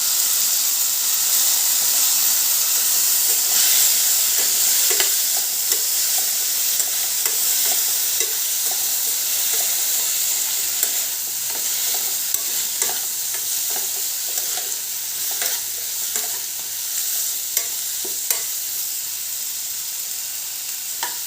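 Eggplant pieces frying in a pan with green chilies and turmeric for a Khandeshi curry, a continuous close sizzle and hiss with frequent spatula scrapes and stirring taps.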